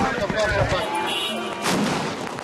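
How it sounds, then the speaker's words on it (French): Gunfire and explosions in a war zone, heard as a dense, continuous barrage of shots and booms with a louder surge partway through, alongside voices speaking. "Au milieu des tirs et des explosions, Mustapha et Khaled sont heureux."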